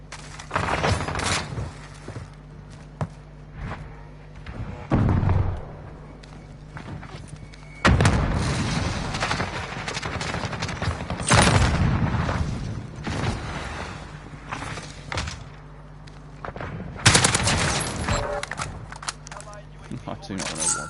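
AK rifle fire in a Modern Warfare shooter: several loud bursts of shots in short clusters spread across the stretch, separated by quieter gaps, with a player talking over the action.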